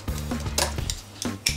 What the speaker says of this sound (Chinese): 先把这个生蚝给撬一下